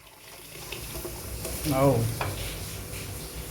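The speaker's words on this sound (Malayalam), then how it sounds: "അരച്ച തേങ്ങ അതിലേക്ക് ഒഴിച്ചു കൊടുക്കുകയാണ്" Ground coconut paste pours into a simmering sardine curry, with a brief rise of bubbling sizzle and stirring in the middle.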